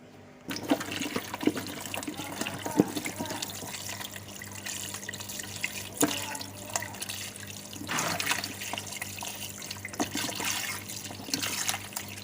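Steady running water splashes and trickles while sun-dried cassava is washed, with intermittent clatter and sloshing as the pieces are handled, continuous and close for the whole stretch.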